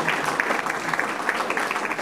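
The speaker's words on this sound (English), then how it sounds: "well, let's give this guy a big round of applause." An audience claps for a speaker at a talk event, a steady dense patter of hands that holds evenly at moderate loudness throughout, with no voices on top.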